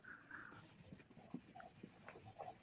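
A person imitates a dog panting, giving quick, breathy huffs in an irregular rhythm, close and fairly quiet against a low room background.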